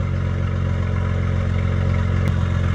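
A straight-piped, turbocharged Kia Stinger idles loudly and steadily nearby, its deep exhaust drone holding constant throughout, with one brief sharp click partway through.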